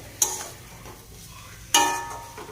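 Marinated mutton with grated papaya fries in a kadai. A low background sizzle runs throughout, broken by two sharp stirring scrapes about one and a half seconds apart.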